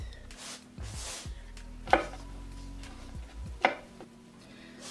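A knife chops mushrooms on a cutting board, a few distinct sharp cuts spaced apart against quiet kitchen background.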